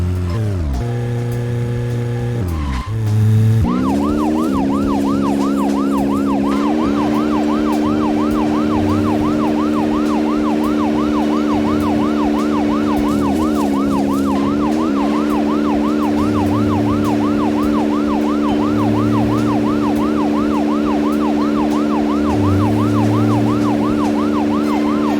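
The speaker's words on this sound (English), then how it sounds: "the car noises in this game are great" A loud, wailing emergency siren in the video game Deadly Premonition cycles steadily over a constant engine drone, the pitch sweeping up and down in a fast, regular rhythm.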